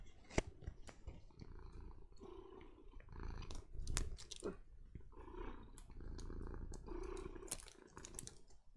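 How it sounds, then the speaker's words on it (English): Close, low rumbling cat purr with scattered clicks and crackles on top, rising and falling in soft waves. "I hope you guys could hear that purring."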